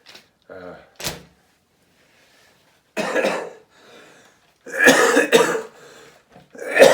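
A person coughs harshly and clears their throat nearby in several short, separate bursts with quiet gaps in between.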